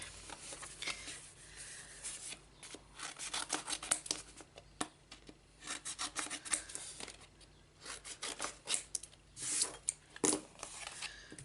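Close, quiet snipping and rustling of scissors cutting paper, a steady run of small crisp cuts with soft scraping between.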